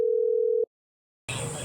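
A single steady telephone tone sounds alone and clear for about half a second while a call is being dialed, then there is silence, and then a short stretch of room noise follows.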